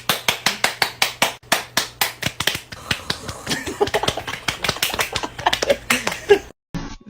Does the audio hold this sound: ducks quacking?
no